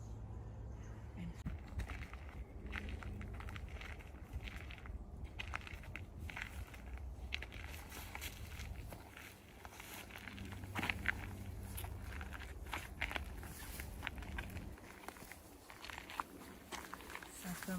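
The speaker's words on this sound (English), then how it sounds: "We're hearing the crunching of the gravel here." Slow footsteps crunch steadily on a gravel path in the West Duwamish Greenbelt, a continuous close scrunch of stones underfoot with soft ambient background.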